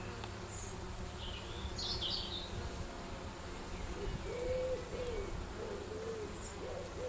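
Honeybees buzz at the hive entrance as they carry yellow pollen in during spring. The low hum is faint and steady, with a few birds calling in the background.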